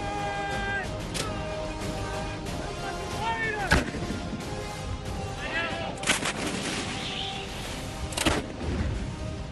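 An M777 light howitzer fires 155 mm shells at the Mahajan field firing range in Bikaner, Rajasthan, giving three sharp, loud booms spaced a few seconds apart, with voices talking in between.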